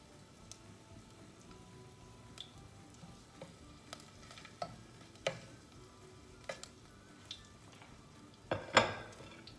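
A clove of garlic sizzles in a tablespoon of cooking oil in a pan. A soft, steady fry crackles close by, broken by scattered clinks and scrapes of stirring utensils against the pan.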